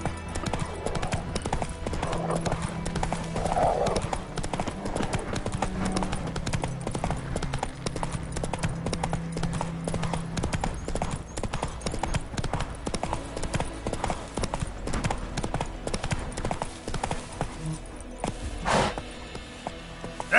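Roach, a horse in the video game The Witcher 3, gallops with rapid, rhythmic hoofbeats, loud and close, continuing for the whole stretch with a brief snort near the end.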